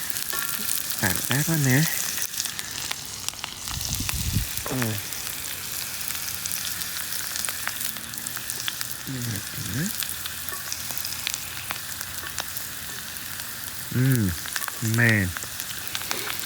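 Morel mushrooms fry in a pan with a steady, close sizzle and crackle, while someone talks intermittently over the cooking.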